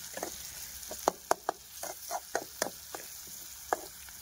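Tomatoes sautéing in a pan give a soft, quiet sizzle broken by a series of sharp clinks and scrapes as a utensil stirs them, with no talking.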